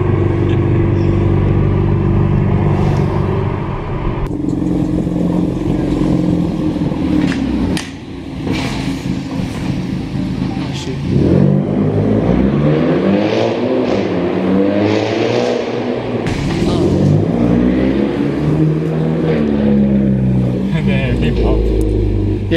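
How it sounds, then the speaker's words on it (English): A car with a straight-piped exhaust and the muffler removed rumbles loudly and revs up and down repeatedly, with people talking over the engine throughout. "I went and took out my muffler and straight piped the whole thing"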